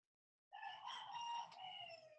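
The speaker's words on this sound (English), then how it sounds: "And the chickens agree." A chicken lets out a single drawn-out call, a crowing or clucking cry lasting under two seconds after brief silence, fairly faint and alone.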